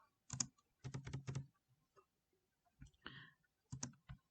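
Bursts of typing on a computer keyboard during a math lesson on decimal notation of natural numbers: quick clustered keystrokes, close and crisp, separated by short pauses, with no voice.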